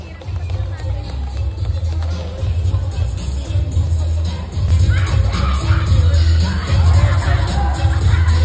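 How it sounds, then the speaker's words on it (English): Audience at a kids and teens fashion runway during a street food event, a broad wash of crowd noise and cheering that swells louder halfway through, with scattered shouts and babble mixed in. "a big round of applause for Model Kids"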